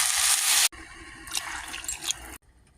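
Water is poured steadily into a cooking pot holding rice and sweet corn, making a close, rushing splash for about two seconds before it stops.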